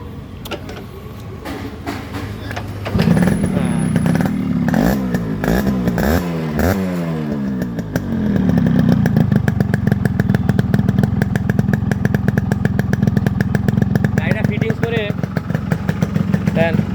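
A Yamaha RX100 motorcycle in fresh condition runs close by with a steady idle. It revs up in rising and falling bursts, then settles back into a continuous rattling idle, with voices talking over it.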